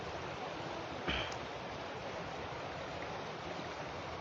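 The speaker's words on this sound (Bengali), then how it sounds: "পানির ঢেউ আসলে দেখুন আপনারা কিভাবে পানি প্রবাহিত হচ্ছে" Floodwater rushes in a steady current over the waist-deep Sylhet–Salutikar road, a constant broadband wash with one brief louder splash about a second in.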